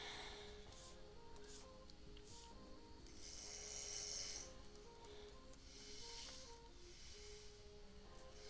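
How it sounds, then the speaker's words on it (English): A man snores softly in the background at home, steady drawn-out breaths repeating under low room noise, faint and distant throughout. "my hubby is snoring in the background"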